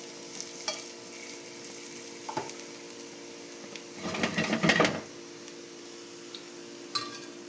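Tofu and broccoli stir-fried in a pan without a wok, with a soft sizzle under quiet kitchen ambience, scattered utensil clinks, and a louder burst of stirring and frying in the middle.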